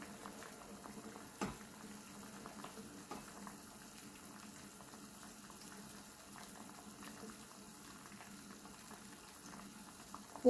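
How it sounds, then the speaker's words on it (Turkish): Quince jam simmering in a pot while being stirred, a faint bubbling with soft scattered taps and scrapes of the spoon, quiet throughout. "Karıştırıyorum."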